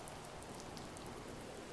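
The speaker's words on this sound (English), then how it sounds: "Stay away from the rain." Rain falls in the video game The First Tree as a steady, dense wash of patter with scattered drop taps, continuous and even, with no voices.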